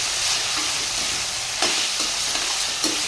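Potatoes sauté in a pan with curry leaves, making a continuous close hiss of frying broken by a couple of soft stirring knocks.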